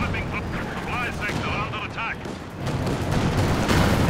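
In a Company of Heroes 2 battle, a 152 gun and other weapons fire repeatedly, with booming artillery and bursts of gunfire building toward the end, while a commentator talks over it.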